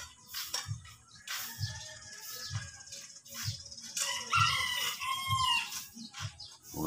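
Roosters crow repeatedly among other fowl and birds, drawn-out crows rising over soft clucking and low thumps at a steady rhythm, fairly close, with no talking.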